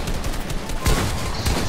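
Gunfire in a shooter video game: a dense, steady wash of rapid shots, with heavier bursts near the middle and again toward the end, loud and close with no talk.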